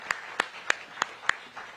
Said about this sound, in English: So let's give each of them a round of applause for their work.